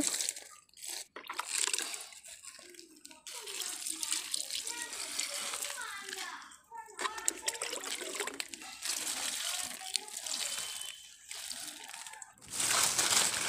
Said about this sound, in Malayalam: ഇനി നമുക്ക് ഈ വെള്ളം ഇതിലൊന്ന് തളിച്ചു കൊടുക്കാം